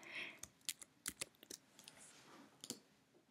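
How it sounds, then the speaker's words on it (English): Clicking keys on a computer keyboard while typing an exclamation point, a handful of sharp, close taps spaced irregularly over a quiet background. "If I just type in an exclamation point now"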